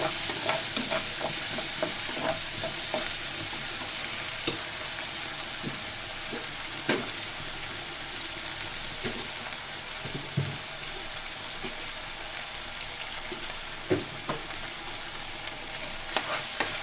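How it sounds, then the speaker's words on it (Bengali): Ginger garlic paste fries in a pan, a continuous sizzle with scattered crackles and occasional stirring scrapes, close and steady without talk. "আদা রসুন বাটাটাকেও আমি সুন্দর করে ভেজে নিব যেন কাঁচা গন্ধটা চলে যায়"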